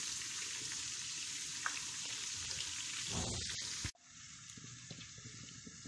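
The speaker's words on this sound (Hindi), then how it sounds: "इन्हें हमने गोल्डन ब्राउन करना है, बल्कि पूरा फ्राई करना है प्रॉपर" Chicken pieces deep frying in hot oil for biryani, a loud continuous sizzle and crackle with a brief stirring clatter, then a sudden drop to a softer, steady bubbling hiss.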